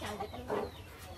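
A chicken gives a few short clucks, faint and close, in a quiet setting with no talking.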